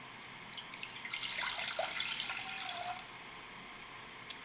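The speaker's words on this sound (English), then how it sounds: "dump the water in." Two cups of water dumped into a pan set on a Coleman PowerPack propane stove, a close splashing pour that swells and then tapers off within a few seconds.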